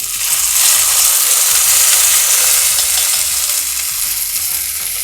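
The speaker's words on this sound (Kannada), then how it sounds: "ಇವಾಗ ಒಗ್ಗರಣೆ ಹಾಕ್ಕೊಳ್ತಾ ಇದ್ದೀನಿ ಗೊಜ್ಜಿಗೆ." Hot garlic tempering hits taro leaf gojju with a loud, steady sizzle and frying crackle. A faint stirring rhythm runs underneath, with no voices.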